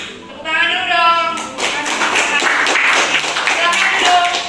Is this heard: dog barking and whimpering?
no